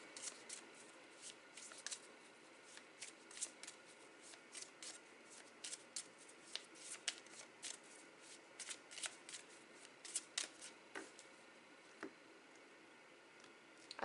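Tarot cards shuffled and cut by hand in a quiet room, a steady run of soft riffling flicks and light slaps repeating throughout, close and fairly faint with no talking.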